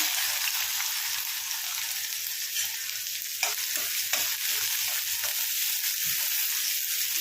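Chopped onions frying in hot oil with mustard seeds, cumin and curry leaves make a steady, loud sizzle throughout, with occasional soft crackles and stirring clicks on top.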